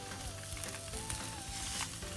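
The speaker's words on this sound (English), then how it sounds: "now we are going to cook the sausages in a fried pan" Sausages fry in a pan with a steady, close sizzle and crackle; a faint tonal hum drifts along underneath throughout.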